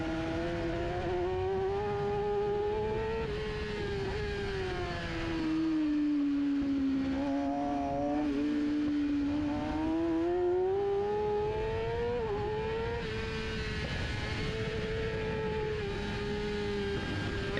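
A race car engine drones loudly and steadily on the final lap of a circuit race. Its pitch falls and climbs again partway through as a downshift goes wrong, then the engine settles back into sustained revving with no talk.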